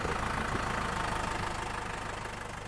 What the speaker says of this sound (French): Le tracteur rentre le premier du verger avec les pommes